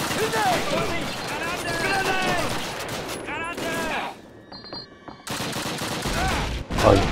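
Call of Duty Classic gunfire on the Railyard level, with repeated rifle and machine-gun shots crackling in bursts, loud and near, mixed with game voices and shouting.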